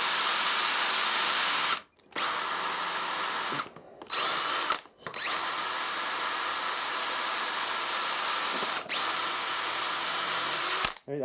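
A milling machine's drill bores into soft cast iron with a loud, steady high-pitched whine. The cutting stops sharply three times in short pauses and then starts again, with no voices.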